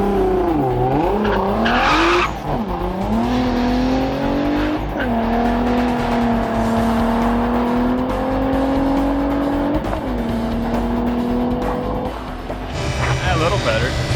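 A street car accelerates hard in fourth gear with wheelspin, engine revs climbing in long rising sweeps with brief gear-change dips, loud and close, with talk over it and some wind noise at the end.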